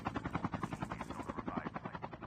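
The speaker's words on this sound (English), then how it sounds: "And a helicopter flies over them." A helicopter in the Call of Duty Mobile battle royale passes overhead, its steady rapid rotor chop pulsing loud and close throughout with no talk over it.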